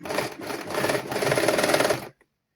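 A sewing machine stitches children's clothing in a close, fast mechanical whirr that runs steadily for about two seconds and then stops abruptly into silence.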